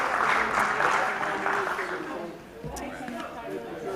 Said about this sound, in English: Big round of applause for Dorothy